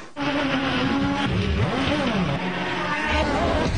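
Stunt cars at a Disney stunt show revving hard, a loud, close engine note rising and falling in pitch with throttle blips and acceleration, continuous for a few seconds.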